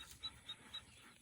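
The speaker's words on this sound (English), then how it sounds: "You guys see all the dogs." Large dogs on a farm pant softly and rhythmically, with a few faint higher squeaks between breaths.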